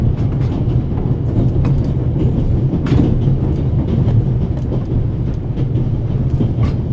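An Orient Express train in The Raven video game rolls along with a steady clickety-clack and a low rumble, loud and continuous, with no talking.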